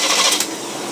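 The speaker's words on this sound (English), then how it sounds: "I'm going to rev this engine up." A carbureted engine revs up during a retest of a customer's carburetor, with a steady, busy high-pitched mechanical roar that holds at a fairly constant level through the short stretch.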